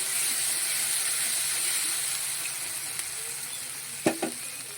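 Spices and turmeric sautéing for a pabda fish curry, a soft steady hiss of frying oil throughout, then two brief utensil knocks near the end.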